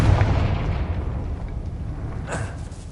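A Confringo blasting spell in the video game Hogwarts Legacy goes off as one deep, close boom that rumbles and fades over a few seconds, with a faint crackle afterward.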